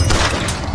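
Gunfire in Bioshock Infinite during a fight with Slate's army, a brief dense blast of loud overlapping shots and booms up close.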